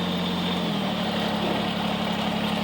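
A Kubota BX23S compact tractor engine idling close by, a steady low drone with a constant hum that dips slightly in pitch early on, then holds even with no one talking.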